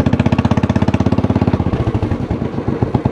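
A Royal Enfield Bullet motorcycle engine runs close and loud, its steady rapid thumping beat turning rougher and more uneven toward the end.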